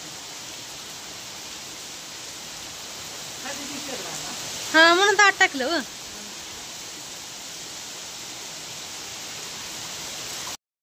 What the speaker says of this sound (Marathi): चांगला पाऊस चालू झाला